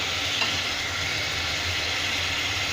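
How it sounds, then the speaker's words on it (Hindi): Pieces of mutton fry in a hot pan with a steady, even sizzle and crackle. The sound is close and continuous, with no talking over it. "अब आपको नज़र आ रहा होगा कि काफ़ी अच्छे से ये फ्राई हो चुका है गोश्त"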